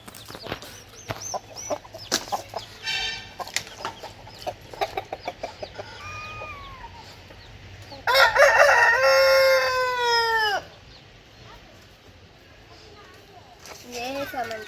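Among hens and roosters, a rooster lets out one loud, drawn-out crow partway through, while scattered clucks, clatter and background talk fill the stretches before and after.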